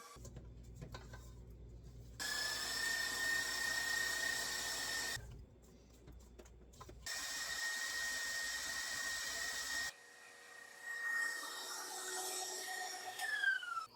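Kitchen hand mixer whipping keto carrot cake cookie batter, a steady whining motor hum running in several long bursts separated by short pauses, loud and close with no talking.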